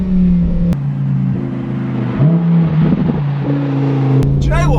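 A Lamborghini Huracan Evo RWD pulls hard at flat throttle, its engine note climbing through a run of rapid gearshifts heard as sharp steps in pitch, loud and close, with a voice briefly over the end.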